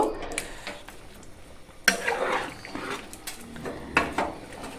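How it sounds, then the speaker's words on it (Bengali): Sukto vegetables being stirred with sugar in a pan, giving intermittent scraping and clinking of a utensil against cookware, with a few louder strokes over a soft background. "চিনিটা দিয়ে হালকা করে এইভাবে নাড়াচাড়া করে নেব।"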